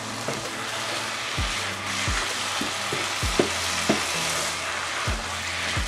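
Beef samosa filling with Espelette pepper fries in a pan under a constant sizzle, while a spoon stirs it in repeated scraping strokes with a few sharp knocks against the pan.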